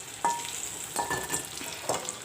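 Pointed gourd (potol) slices fry in a pan with a soft, steady sizzle, broken by three sharper scraping stirs spaced about a second apart, close by and with no talking.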